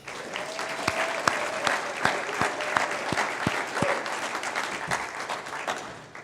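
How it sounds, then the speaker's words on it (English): A crowd at a small business awards dinner applauds award winners, sustained full-room clapping with a few sharp, close individual claps standing out, fading slightly at the very end. "And a round of applause for the Miller Award winners"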